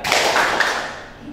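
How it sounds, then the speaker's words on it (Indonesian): A classroom of seventh-grade students claps together in a short dense burst, the hand claps blending into one loud smear rather than three crisp separate strikes. "Tepuk 3."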